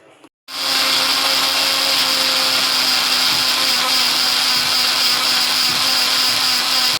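After a short quiet moment, a mixer grinder switches on and whirs loudly and steadily at close range while it grinds buttermilk with chili, coriander and ginger.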